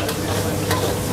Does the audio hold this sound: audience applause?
no